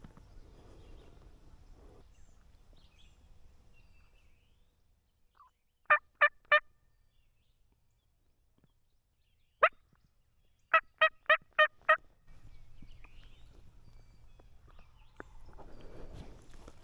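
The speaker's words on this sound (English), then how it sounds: "Once I got that gobble, I knew I could move" Wild turkey gobblers in Missouri spring woods sound off in two separate bursts, a quick triple gobble followed later by a longer run of five or six rattling gobbles, loud and fairly close against quiet forest background.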